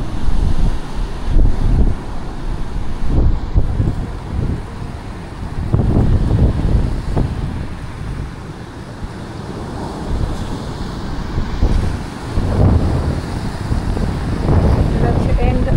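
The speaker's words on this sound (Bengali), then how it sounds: "আসলে অনেক বড় ঢেউ।" Large ocean waves surge and break beside a water villa deck at a Maldives island resort, with strong gusts of wind buffeting the microphone in a loud, continuous roar of surf.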